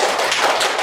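Classroom applause from a group of primary school pupils, a short dense burst of claps, loud and close.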